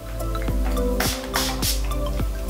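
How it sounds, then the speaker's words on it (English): Several short hissing spritzes of a makeup setting spray bottle, close and fairly loud, spaced about half a second apart, with no talking. "just going to spritz myself with the Urban Decay All Nighter Setting Spray."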